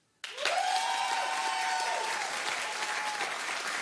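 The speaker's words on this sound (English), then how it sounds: "clap if you would rather Kim" Sudden applause from a television talk show studio audience bursts out and continues steadily, loud and dense, fading slightly toward the end.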